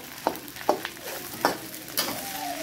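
A spatula scrapes and clacks in quick, irregular strokes as rice for nasi goreng is stirred in a hot pan. A soft, continuous sizzle runs underneath and no one speaks.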